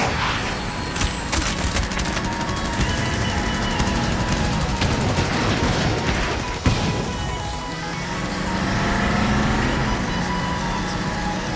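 A missile barrage in the animated sci-fi film Appleseed Alpha: a loud, dense, continuous roar of launches and crackling blasts, with a sharp crack midway and a rumbling tail.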